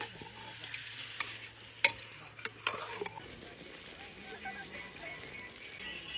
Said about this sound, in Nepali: पहिला हामीले मेथीहरू ज्वानोहरू हाल्यौँ तेलमा, अनि त्यस पछाडि प्याज हालेर रोट्दैछौँ है।